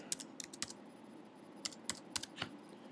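Fingers type on a computer keyboard in quiet bursts, a few sharp clicks, a pause, then another cluster of keystrokes, close and faint.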